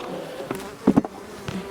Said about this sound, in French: Il y a encore des abeilles.